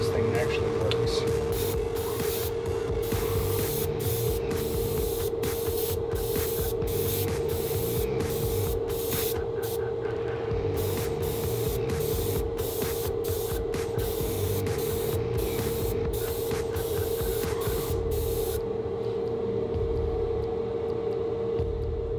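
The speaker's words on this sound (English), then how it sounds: "I'm gonna shoot this fluorescent and see if like it gets on the filter" An airbrush sprays fluorescent lure paint inside a spray booth, its steady hiss broken into repeated short bursts over a constant fan hum, with speech mixed in.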